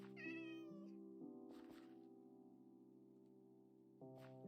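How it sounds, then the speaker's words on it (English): A white cat in the Minecraft survival game gives one short meow, then a long held tone from the game's background music carries on with no talking. "I think this white cat has been following me around."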